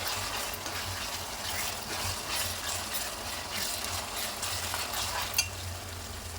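Ginger garlic paste fries in a pot for mutton gravy curry, giving a steady close sizzle with soft stirring and one sharp clink near the end.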